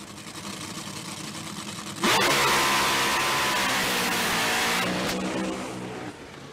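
Onboard a Tony Schumacher drag racing car: a steady loud engine drone that jumps abruptly into a much louder, broadband roar for several seconds before easing off, with no talk.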